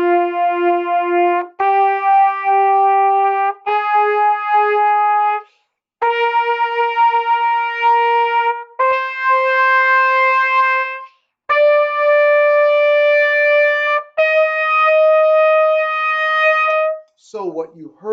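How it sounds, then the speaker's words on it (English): Two sustained melodic instruments playing an ascending scale together in unison, each note held about two seconds with short gaps, clear tones and a brief different sound at the very end. "Listen to what it sounds like when two people play a scale together in tune."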